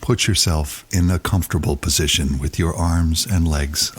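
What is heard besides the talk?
None of the usual background noises is heard.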